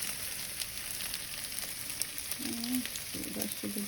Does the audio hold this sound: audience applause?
no